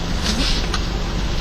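A 2001 Mazda Tribute ES with its V6 engine running just after start-up, a steady broadband engine rumble with no speech over it.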